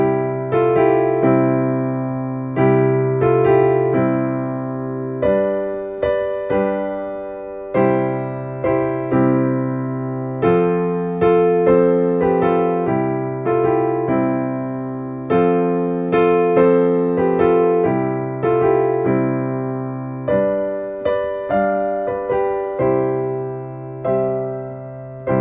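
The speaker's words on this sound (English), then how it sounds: "Now, if we look at Silent Night, how it's traditionally notated, it would probably sound something like this." Silent Night played in a plain, traditional style with simple chords, likely on piano or keyboard: steady sustained chords and a melody line in a slow, even rhythm, close and clear with no voices.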